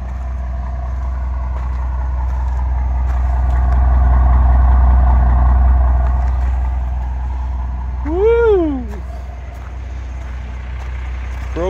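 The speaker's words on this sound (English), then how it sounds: "First time I ever drove a school bus before." An old school bus engine runs as the bus is driven, a loud low diesel rumble that swells and eases with the throttle, while a brief rising-and-falling squeal cuts in partway through.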